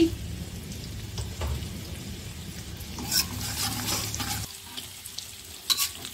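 Shallots and garlic fry in reused oil left from frying salted fish, giving a soft, steady sizzle with occasional scrapes of stirring, close but fairly quiet.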